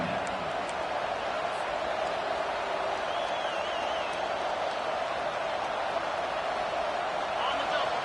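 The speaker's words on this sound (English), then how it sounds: "Decibels rising as the crowd gets behind this defense on 3rd down." Roaring football stadium crowd on 3rd down in a Miami vs Michigan game, a steady, loud wash of cheering that holds throughout, with a faint whistle-like tone partway through.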